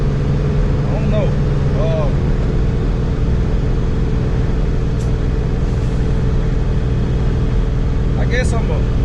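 An LS V8-swapped Chevy S10 pickup with a failing transmission drones steadily on a test drive, its low engine hum loud and continuous from start to finish, with a few faint chirps on top.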